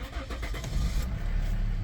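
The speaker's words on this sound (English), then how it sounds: "It's a push button start, so foot on the brake," A 2014 Volvo XC60 D4 2.4 diesel fires up from a push-button start, a brief starter crank catching into a steady, close diesel idle.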